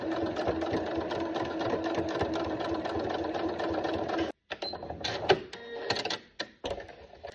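A sewing machine runs steadily and close-up for about four seconds while stitching a waistband. It stops abruptly, then comes back in short, uneven bursts.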